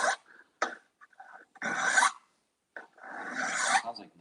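Flat file drawn in downward strokes along Schluter metal trim in a shower niche: harsh, scraping rasps in uneven bursts, a few short strokes then two longer grinding passes, close and fairly loud.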